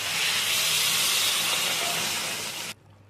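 Loud, steady hiss as water is poured into a pan of frying spiced duck curry with tomato and potato, a broad sizzling roar lasting nearly three seconds before cutting off abruptly to near silence.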